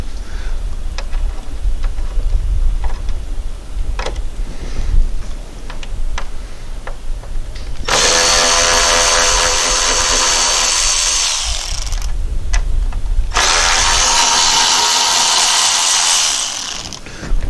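Power tool backing out 10 mm bolts from a GMC Acadia radiator grill support, heard as close ratcheting clicks followed by two long, loud whirring bursts separated by a brief pause.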